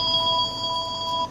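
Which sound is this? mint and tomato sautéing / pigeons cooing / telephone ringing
telephone ringing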